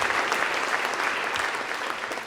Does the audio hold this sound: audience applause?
yes